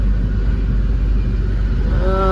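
A car travels along a road at 40–45 km/h, giving a steady low rumble of engine and road noise from inside the cabin, loud and unbroken.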